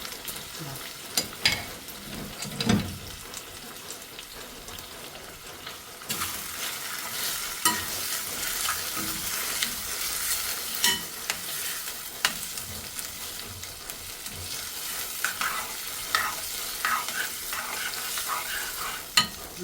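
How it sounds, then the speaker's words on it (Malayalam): Mutton liver frying in a pan as it is stirred, continuous sizzling with repeated scraping and clinking of the spoon, getting louder and busier partway through, no talking. "ലിവർ നന്നായി ഒന്ന് വരട്ടിയെടുത്താൽ മതി"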